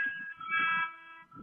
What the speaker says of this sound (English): that was a little buzzer back at practice